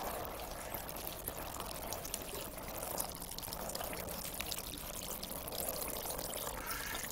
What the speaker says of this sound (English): first thing we're going to do is water them, because they're totally dried out.